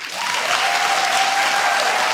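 Studio audience at a daytime talk show breaks into steady applause, a dense wash of clapping that swells quickly and holds loud and even for about two seconds, with a faint whoop or tone riding above it.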